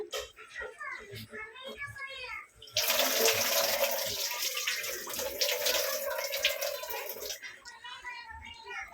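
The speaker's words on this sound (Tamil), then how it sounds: "நல்லா கொதி வந்துச்சு இப்போது நம்ம ரைஸ் ஆட் பண்ணிக்கலாம்" Soaked basmati rice pours into boiling coconut milk in a pot, a loud rushing splash and bubbling lasting several seconds, with someone talking before and after.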